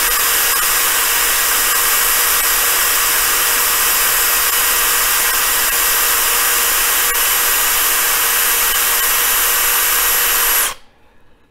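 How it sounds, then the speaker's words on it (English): A power tool buffs and polishes a pistol feed ramp with a loud, steady, high whine that holds constant and close for about ten seconds, then cuts off abruptly into quiet. "I think after we just do one more buff on it, I think we should be good."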